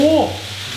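A brief burst of sizzling as tempura batter hits a hot buttered pan, loud at first and quickly settling into a softer hiss.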